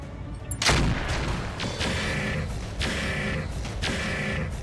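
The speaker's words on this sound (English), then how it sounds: "I'm gonna stand and shoot" Mech weapons firing in the video game RogueTech, a BattleTech mod: a sharp blast followed by a few regularly spaced heavy volleys over a dense, steady battle din.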